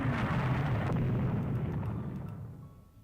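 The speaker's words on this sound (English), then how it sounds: "How are we being hit by torpedoes?" Heavy explosions from torpedo hits on a warship in the naval strategy game Rule the Waves 3, a loud sustained rumbling boom that slowly fades.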